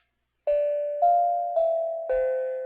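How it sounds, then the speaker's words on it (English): A small electronic bell rings four clear, evenly spaced chimes up close, each tone ringing on and fading slightly before the next strike, with no talk. "finish off the stream here real quick with my little fart tone bell"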